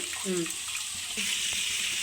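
Water pours into a pan while fish curry with silver fish is being cooked, a steady close splashing stream running throughout.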